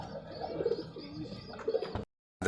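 Feather-footed pigeons coo at a colourful pigeon farm in Rajshahi, with soft repeated throaty coos and a few chirps close by for about two seconds, then a brief silence before a louder burst.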